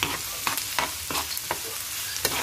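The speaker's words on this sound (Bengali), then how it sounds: "এটাও ভালো করে ভেজে নিব।" Garlic and onion frying in mustard oil with added soybean oil, sizzling steadily while a utensil scrapes and stirs the pan in regular strokes, close and moderately loud.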